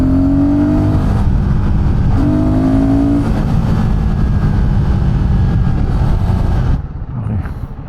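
A Royal Enfield Guerrilla 450 motorcycle engine drones loudly up close while riding, rising in pitch through a couple of gear pulls with wind rush, then easing off abruptly near the end.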